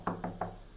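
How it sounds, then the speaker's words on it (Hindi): Three evenly spaced knocks on a house door, close and clear, in a quiet room. "तभी उनके घर का दरवाज़ा नॉक होता है।"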